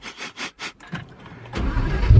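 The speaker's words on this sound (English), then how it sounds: "put your foot on the brake, start it up" Lamborghini Aventador engine starting: a series of rhythmic starter whirs and pumping pulses, then a loud, deep burst as the engine catches and rumbles up close.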